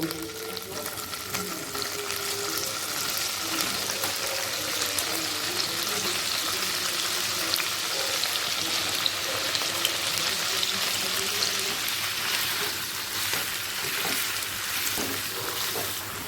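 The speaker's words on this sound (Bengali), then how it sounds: "আমি আরও একশো গ্রাম ঠিক একইভাবে কিউব করে কেটে একই সাথে ভেজে নিচ্ছি" Cubes of paneer frying in hot oil, a steady, hissing sizzle that fills the whole stretch, with faint stirring underneath.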